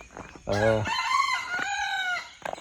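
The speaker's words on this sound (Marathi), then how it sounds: "कोंबडा आमचा वरटतोय. सकाळ झाली सांगते सगळ्यांना." A farm rooster in rural Konkan crows one full cock-a-doodle-doo in the morning, loud and close, a rising then sustained call that fades out, with a brief cluck at the end.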